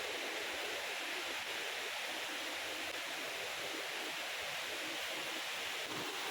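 Waterfall in Sohra near Shillong, a steady broadband rush of falling water that fills the whole clip, loud and continuous with no other sounds on top.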